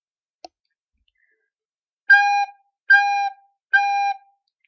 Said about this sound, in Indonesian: Cikgu akan tiup recorder sambil sebut tu dengan lidah.